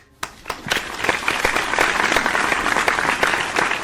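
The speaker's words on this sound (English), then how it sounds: "Give him a round of applause." An audience bursts into applause, with steady dense clapping that continues at an even level throughout.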